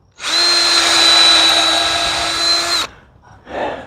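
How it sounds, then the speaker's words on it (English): A power drill bores pilot holes into timber for a deer fence, a loud steady whine running nearly three seconds, stopping abruptly, then a brief softer burst follows. "I'm just going to drill some pilot holes"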